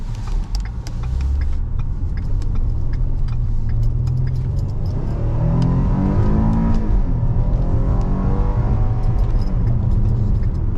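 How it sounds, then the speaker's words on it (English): A Ford Explorer police car accelerates hard, its engine rumbling low and then climbing in a steady, rising whine that fills the whole stretch, loud and close with no voices. "But it does have excellent acceleration."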